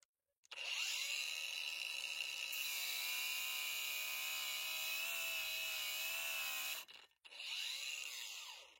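A Parkside Performance 20 V cordless angle grinder, model PWSAP 20 Li D4, runs at its first speed setting with a steady high whine for about six seconds, briefly cuts out, then spins up again, close and alone.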